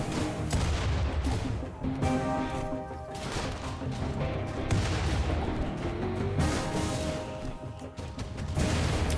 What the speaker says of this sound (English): Just walking around in the middle of gunfire